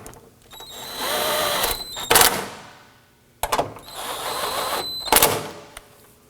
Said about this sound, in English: It is safe to go ahead, if you want to, use your impact driver.